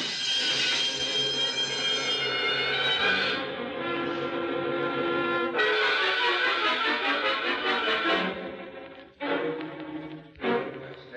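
A loud, ringing electric alarm bell sounds continuously in an old-time radio detective drama, its harsh metallic tone holding steady for several seconds before cutting in and out near the end.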